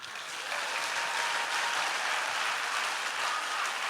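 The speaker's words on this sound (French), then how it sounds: "que chacun acclame son Jésus." Sustained applause and acclamation from a church congregation at an awards ceremony, a dense, steady roar of clapping that swells in the first half-second and holds evenly throughout.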